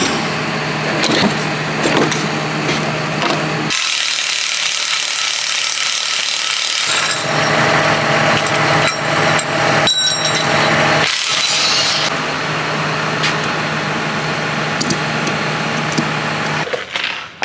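A tractor's PTO swivel hitch, switched from 540 to 1000, is pulled out and flipped with the engine shut down: close metallic scraping and rubbing clatter in bursts, with a few sharp clanks.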